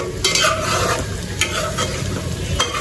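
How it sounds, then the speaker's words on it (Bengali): Pointed gourd curry, with its water boiled down, bubbles hard in the pan, making a loud, close, crackling sizzle with a few sharp utensil clicks. "জোরে বলকটা উঠছে"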